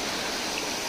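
Water flows down from the Pachamalai hills near Perambalur in Tamil Nadu, a dense, steady rushing wash like a stream or small waterfall, close and continuous.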